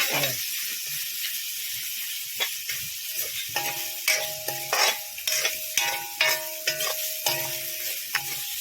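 Onions frying in a hot oil-filled kadai with repeated scraping stir strokes, a quiet sizzle broken by rhythmic clinks and scrapes that quicken after the first few seconds.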